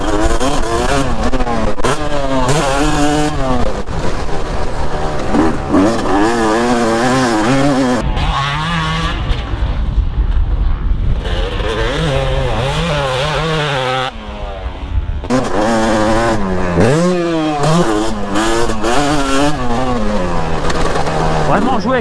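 A motocross motorcycle is ridden hard at a training session in Fermanville, its engine revving and rising and falling in repeated sweeps, loud and close, with speech heard at times.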